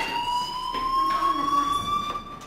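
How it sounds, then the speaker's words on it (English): A fire alarm rings in the video game Life Is Strange: a steady, piercing electronic tone that holds unbroken and fairly loud, with faint background murmur beneath it. "do you hear that fire alarm? That means you should be outside."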